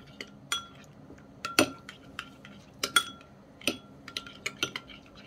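Garlic and dried ginger being mixed in a bowl with a metal spoon, a quick series of sharp clinks and taps against the bowl, close and fairly faint, with no talking.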